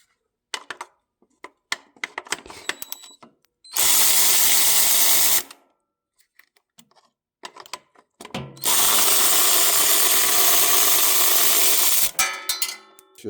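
Power tool driving out two 10 mm carburetor bolts on a Cub Cadet mower, two loud sustained whirring bursts of about two and five seconds, separated by quieter clicks and handling noises.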